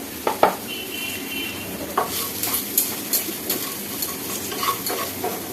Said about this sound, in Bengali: এইভাবে একটু ভেজে নিচ্ছি